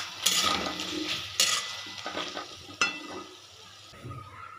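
Tarka dal cooking in a pan, with soft sizzling and frying, a few stirring scrapes and light clinks of utensil against metal in a steady kitchen bed.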